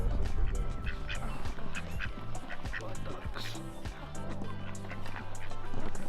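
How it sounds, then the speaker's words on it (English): Several ducks quack in a noisy cluster nearby, overlapping calls throughout, with a voice briefly heard in the background. "as soon as we parked, we found a load of ducks"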